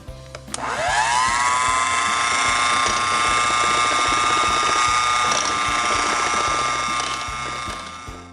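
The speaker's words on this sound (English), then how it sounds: "I'm gonna take the beater and we're going to mix it for 30 seconds on low" Electric mixer beating marble cake batter on low speed, a loud steady motorized whir with a rattling mechanical edge that starts abruptly and runs alone throughout.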